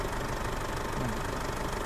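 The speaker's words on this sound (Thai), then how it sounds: "สตาร์ทเครื่องยนต์ให้ฟังนิ่มๆ" A warm Isuzu MU-7 3.0 VGS turbo diesel engine from 2007 idles steadily nearby, a constant clattering hum with no voices.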